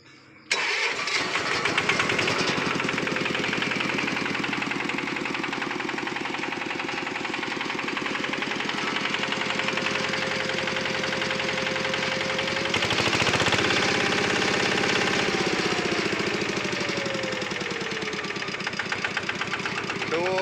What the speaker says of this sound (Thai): อันนี้จะฟังเสียงเครื่องยนต์นะครับ